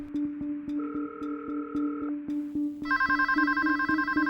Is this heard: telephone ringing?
yes